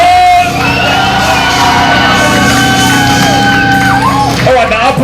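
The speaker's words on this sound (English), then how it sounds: "Give yourselves a fucking big round of applause!" A loud crowd at a metal awards show whoops, yells and cheers, with sustained shouting voices and scattered clapping throughout.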